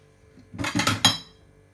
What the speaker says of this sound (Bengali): এই যে ঢাকনা বন্ধ করে দিলাম